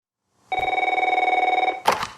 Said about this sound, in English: On September 2nd, 1996, a phone call was placed to Harge Gritchard's office in Los Angeles.